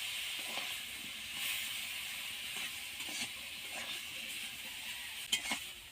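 Poppy seed and dried chilli paste sautés with Malabar spinach greens in a pan, a soft steady sizzle and hiss with occasional stirring clinks of a utensil near the end.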